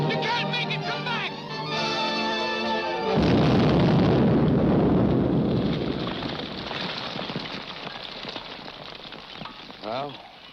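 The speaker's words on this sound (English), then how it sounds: "That explosion got Grogan, too." A loud explosion in a 1943 serial film scene involving a cart with a lit fuse, breaking into a heavy roaring blast that swells and then slowly fades into rumbling debris, preceded by dramatic orchestral music.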